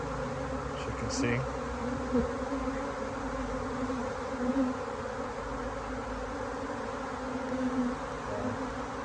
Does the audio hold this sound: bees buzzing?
yes